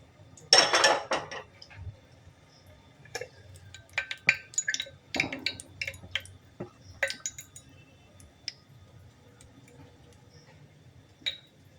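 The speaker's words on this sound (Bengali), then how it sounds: "এই ছাঁকনি দিয়ে ছেঁকে ফেলবো।" Homemade ghee being strained through a strainer, with a dense cluster of metallic clinks and scrapes at the start, then scattered lighter taps and clinks of utensil against pot, close by and with no speech.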